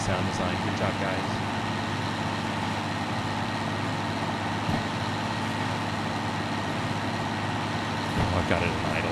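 Idling diesel locomotive engine in the train simulator game Derail Valley, a steady low rumbling drone with even harmonic layers that holds throughout, with a person talking over it now and then.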